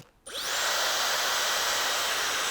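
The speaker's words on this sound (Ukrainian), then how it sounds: "давайте тепер спробуємо вімкнути ці два фени та зрозуміти, чи є якась різниця" An original Dyson hair dryer switched on at full power and maximum heat, a brief click and a rising whine that settles into a loud, steady, high-pitched airflow roar.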